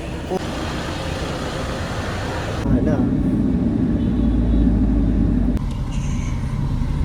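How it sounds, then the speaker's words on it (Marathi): A Toyota Innova car engine rumbles steadily, rising into a louder low drone as it pulls away at a tyre shop, with a voice over the engine. "गाडी स्टार्ट केली आता जातो आम्ही"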